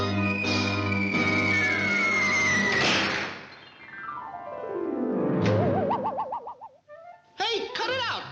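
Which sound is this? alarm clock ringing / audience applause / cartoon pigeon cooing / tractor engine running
cartoon pigeon cooing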